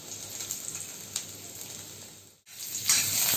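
Garlic cloves and ginger sizzling in hot oil, a steady crackling hiss that briefly drops out and then returns louder as the spices fry.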